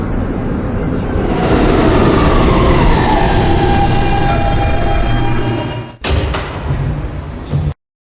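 An R160B K subway train rumbles loudly through a station, a dense sustained roar of wheels and carriages with screeching tones, then a sudden break and a brief clattering burst before cutting off.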